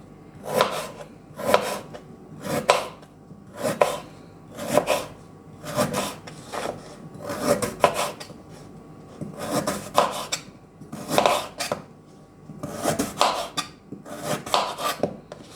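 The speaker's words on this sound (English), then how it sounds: "and we can cut carrots and potatoes, carrot cubes maybe" Carrots and potatoes being cut into cubes for Russian borscht, about fourteen evenly spaced knife strokes with a rasping, scraping quality, close and crisp with no voice.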